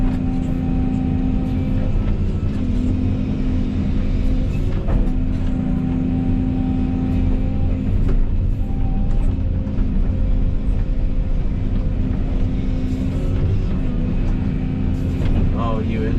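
A vehicle rumbles steadily with a low engine drone while driving over rough, freshly cleared land on a 90-acre tract, jostling continuously throughout.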